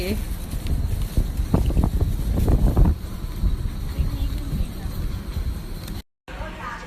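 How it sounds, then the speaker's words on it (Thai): Strong wind gusts roar across an open outdoor spot, a steady loud buffeting rush with voices talking under it before a brief dropout near the end. "ลมแรงกำลังดี"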